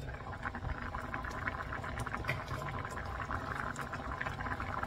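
Thick Korean gangdoenjang soybean paste stew boiling down in a pot, giving a dense, steady bubbling and crackling that continues evenly throughout without pause.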